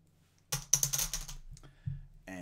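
Plastic chips dropped into a bag in a quick run of small clicking clatters, followed by a few sparser clicks and rustles, close and fairly quiet, with no voices.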